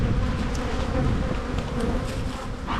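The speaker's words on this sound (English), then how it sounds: "There is a lot of bees in this hive, and we're 7 days into spring." Dense, continuous buzzing of many honey bees around a crowded hive in early spring, close by, a loud steady drone with no talking.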